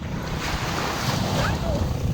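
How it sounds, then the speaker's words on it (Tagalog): Sea waves wash steadily onto a beach, a continuous loud roar of surf mixed with wind buffeting the microphone, with no voices over it. "dito na po kami ngayon sa dagat"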